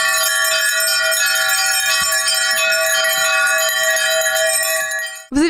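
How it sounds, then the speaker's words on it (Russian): Church bells of the All Saints church peal together in a bright, sustained and loud ringing at an outdoor exhibition opening, steady throughout before cutting off abruptly at the end. "Открытие выставки сопровождалось мелодичным перезвоном колокольчиков, привезенных из Болгарии, и звоном колоколов Всехсвятского храма."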